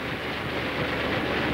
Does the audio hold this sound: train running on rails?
yes